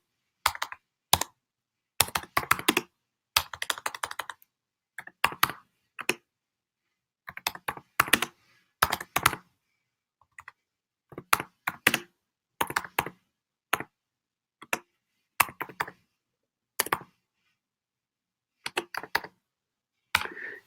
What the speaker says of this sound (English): First, let me type 松空通.